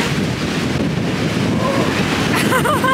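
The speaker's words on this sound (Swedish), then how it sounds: "Herregud vad det blåser." Strong wind buffets the microphone on the Gotland coast, a loud continuous roar with surf-like rushing throughout, while a voice speaks faintly underneath near the end.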